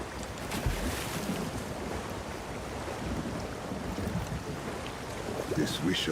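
Water waves wash steadily in the video game The Elder Scrolls Online, a continuous broadband surf and wind-like rush that stays even and fairly close throughout, with no clear voices.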